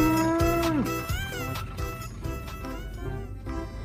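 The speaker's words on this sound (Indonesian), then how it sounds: "ini ada induk sapi belang" A spotted mother cow lets out a loud, falling moo close by, followed by quieter lowing and farm background noise.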